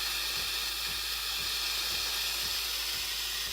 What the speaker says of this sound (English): Now back to the steam wand. You're going to let it sit here until it starts to warm up.